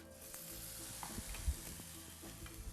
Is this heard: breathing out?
no